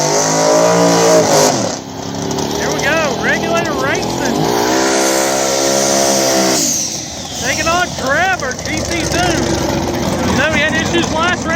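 Small-tire drag race cars launch and accelerate down a strip at a back-of-the-track Ohio race, their engines roaring loud and continuous with rising and shifting pitch, while a commentator talks over them throughout.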